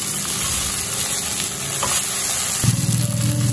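Eggplant with green tomato and sugar fries in a pan with a steady close sizzle, stirred once or twice, with a louder bubbling burst toward the end and no voices.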